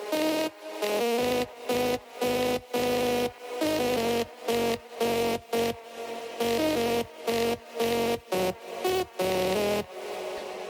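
Soloed drop synth from an electronic track, a buzzy sustained chord chopped into a rhythmic gated pattern of short stabs and pauses, moderately loud, with no voices.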